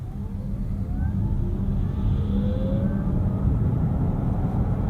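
A 2021 Vauxhall Mokka-e electric car accelerates hard from standstill to 70 km/h, heard from a quiet cabin as a steady low road rumble with faint whines that climb in pitch over several seconds.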